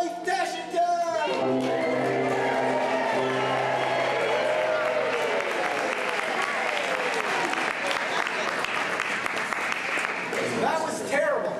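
An audience at a stage show cheers and applauds the hero's entrance, a dense sustained burst of clapping and shouts that swells after a brief opening of speech and music.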